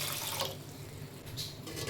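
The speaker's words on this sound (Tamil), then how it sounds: "கொஞ்சமாக தண்ணி சேர்த்துக்கலாம்" A small amount of water is poured into an idli steamer pot on a stove, a soft, continuous, faint splashing trickle with no talking.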